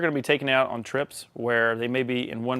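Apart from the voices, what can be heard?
No everyday noise stands out behind the speech.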